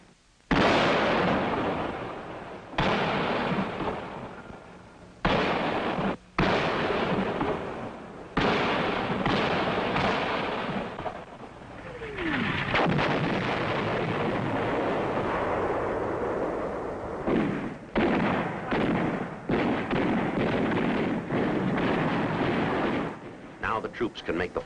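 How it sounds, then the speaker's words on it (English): Artillery fire support during the Vietnam War booms in repeated heavy blasts with sharp onsets and rumbling tails, some distant and some close, across a long stretch of battlefield noise. "The command decision is to call for artillery fire support to dislodge them."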